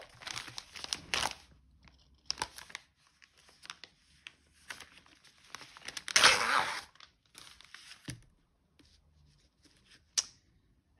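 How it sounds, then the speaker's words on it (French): Crinkly plastic packaging from an AliExpress parcel being torn and opened in bursts, with sharp crackling rips and rustles separated by quiet pauses, close up and clear. "donc on va tout de suite l'ouvrir"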